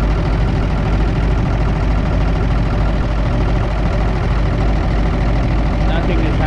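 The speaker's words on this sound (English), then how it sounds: "So you can hear the compressor is working" A truck's air brake compressor runs with the engine idling, a loud, continuous, close mechanical drone and chug in a truck whose brake lines have iced up, with a voice partly under it.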